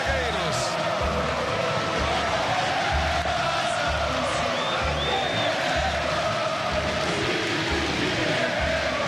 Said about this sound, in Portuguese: E a torcida grita, canta o time de Guerreiros.